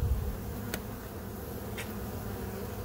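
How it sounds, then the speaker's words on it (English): Honey bees from an agitated, aggressive hive buzz steadily around the hive, a continuous droning hum with a couple of brief louder passes as individual bees fly close, no talking. "This hive is much more aggressive than the other."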